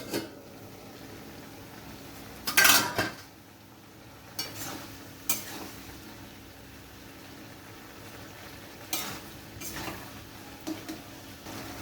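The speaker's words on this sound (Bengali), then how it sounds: "এবার আমি ঢাকনাটা খুলে দেখে নেব সবজিগুলো সিদ্ধ হলো কিনা" A lid is lifted off a kadai of cooking vegetables with a sharp metallic clank, followed by a few lighter knocks over a quiet background simmer.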